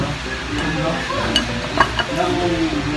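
Ground meat sizzling and being stirred in a hot pan for lumpiang shanghai, a loud steady frying hiss with a few sharp utensil scrapes and clicks against the pan.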